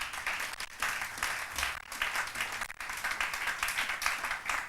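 A church congregation applauding, a sustained wash of many hands clapping at moderate distance that ebbs and swells with short dips throughout.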